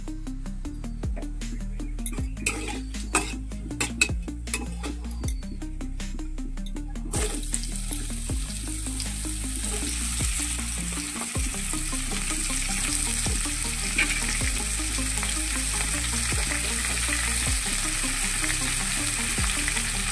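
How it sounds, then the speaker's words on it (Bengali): Chopped bottle gourd hits hot oil for a Bengali lau ghonto with hilsa fish head, starting a loud, steady sizzling hiss that runs to the end after a stretch of clinks and stirring. "এরপর আমি আগে থেকে কুচিয়ে রাখা লাউগুলি ছেড়ে দেবো এই তেলে"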